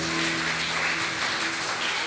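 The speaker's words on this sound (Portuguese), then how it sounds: "aplauda ao Senhor, querido" Church congregation applauding during a sermon, a dense, steady wash of clapping filling the room for about two seconds, with a faint sustained tone underneath.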